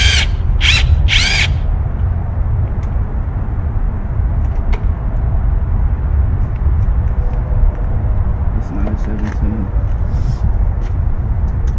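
A loud, steady mechanical whir with a few sharp high-pitched bursts at the start, running continuously from an impact wrench with a 17 mm deep socket near the microphone, working on a 1994-97 Honda Accord during a timing belt job.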